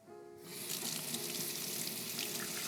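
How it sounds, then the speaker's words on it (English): Lukewarm tap water gushes into a kitchen sink as a potato is rinsed, starting abruptly and settling into a steady, close splashing rush with no one talking. "Just a quick rinse under some lukewarm water is all we need."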